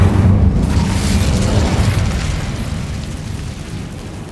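A fire spell cast in Hogwarts Legacy gives a loud, sustained burst that roars and rumbles heavily at first, then slowly fades over a few seconds.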